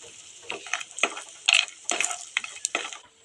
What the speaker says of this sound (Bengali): আমি এবার বড়িটা ভেজে নেব শুক্তোর জন্য।